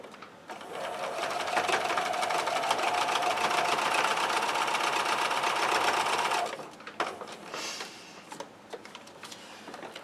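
A sewing machine runs steadily for about six seconds while stitching a paper-pieced quilt block, a loud continuous whir that stops abruptly, followed by a few faint handling clicks.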